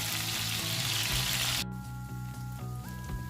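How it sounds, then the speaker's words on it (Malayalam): Fish frying in oil over a medium flame, a steady close sizzle that fills the clip and drops a little partway through, with no one speaking. "നമുക്ക് മീഡിയം ഫ്ലെയിമിൽ ഇട്ടിട്ടൊന്ന് ഫ്രൈ ചെയ്തെടുത്താൽ മതിയേ"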